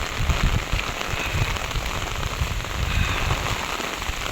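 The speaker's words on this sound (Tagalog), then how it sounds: "Malakas din po yung ulan." Heavy rain pours steadily outdoors near a mango tree, a dense, even hiss of drops drumming on surfaces with no voices.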